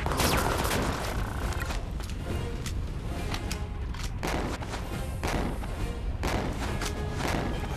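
A rifle in the video game Disaster: Day of Crisis fires a rapid burst of several loud, sharp shots close by, mixed with thumps and mechanical clatter over dense in-game background noise.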